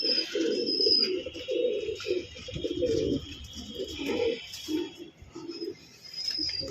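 Pigeons coo in soft repeated low bursts, several birds overlapping at close range, with faint chirps and thin high calls drifting in the background.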